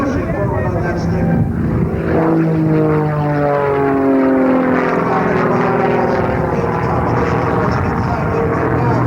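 A powerful 360-horsepower propeller engine on an aerobatic airplane drones loudly overhead at an air show, its pitch sliding up and down as the aircraft maneuvers, continuous for the whole stretch.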